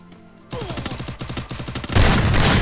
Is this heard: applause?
no